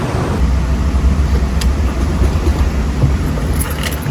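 A Subaru engine running on a Haltech ECU turns over and settles into a steady, smooth idle, loud and close, with no talking.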